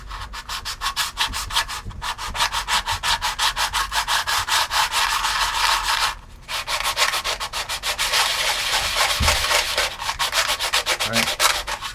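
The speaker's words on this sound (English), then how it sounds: "The more you sand, the more you get this." Steady hand sanding on a wooden Aeronca aircraft fuselage part, close and loud, with rapid back-and-forth strokes that pause briefly once midway before resuming.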